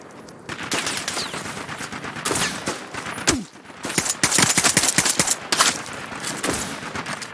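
Gunfire from the online shooter game Caliber: loud, dense bursts of automatic rifle fire and rapid shots, continuous and overlapping across the whole stretch, with a few brief lulls between volleys.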